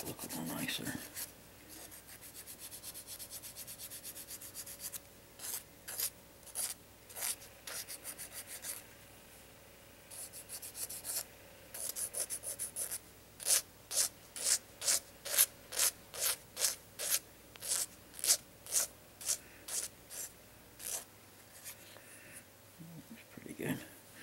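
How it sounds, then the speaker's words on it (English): Rasping and rubbing strokes as the end of an exotic wooden crochet hook is bevelled by hand, starting as scattered scrapes and building into a steady, evenly spaced run of close, fairly loud strokes that stops near the end. "I just bevel this off a little bit, make it nicer here on the end so it looks a little nicer."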